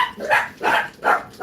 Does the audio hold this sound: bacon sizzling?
no